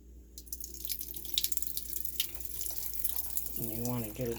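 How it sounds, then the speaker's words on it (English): Water runs in a thin, steady trickle as it is poured into a 3-pound rock tumbler barrel of Lake Michigan rocks. The splashing is soft and close, and a voice comes in briefly near the end. "Next, we're going to fill it with a little bit of water."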